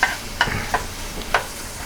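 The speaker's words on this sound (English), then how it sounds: "Stir it." A pound of shrimp with minced garlic sizzles in a pan as it is stirred, with four quick scrapes of the utensil over a steady close frying hiss.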